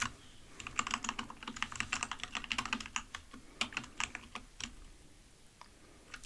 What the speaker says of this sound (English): to install UV, you just need to type brew install UV